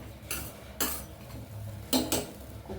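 A spoon scrapes and clanks inside a pressure cooker while aviyal curry with turmeric, curry leaves and salt is stirred. Three or four sharp metallic strokes sound up close against a quiet background, with no speech.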